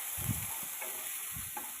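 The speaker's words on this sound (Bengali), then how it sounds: "আদা রসুনটাকে পেঁয়াজের সঙ্গে ভালোভাবে কষিয়ে নেব" Ginger-garlic paste frying with browned onions in a pan, a steady close sizzle broken by a few soft scraping stirs.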